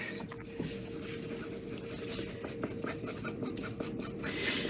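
A marker coloring along the edge of paper, producing soft, steady scratchy strokes repeated in a quick rhythm, quiet and close with no voices.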